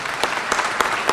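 A brief burst of audience clapping at a school district wellness awards ceremony, a few louder claps standing out over a steady patter.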